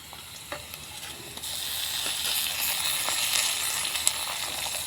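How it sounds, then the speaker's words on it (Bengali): Onions with garlic paste sizzling as they fry in a pan, a bright hissing crackle that swells louder after a quieter start, with occasional clinks of a stirring spoon, no talking. "পেঁয়াজের সঙ্গে মশলাগুলোকে ভালোভাবে ভেজে নেব।"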